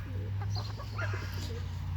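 Backyard chickens cluck in short, close bursts over a steady low hum, with no talking.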